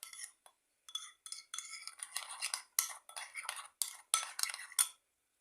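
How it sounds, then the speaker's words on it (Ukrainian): A spoon clinks and scrapes against a bowl in quick irregular bursts while sour cream and sugar are stirred, close and fairly quiet. "Сюди додаю одну чайну ложку цукру і все добренько ось так перемішую"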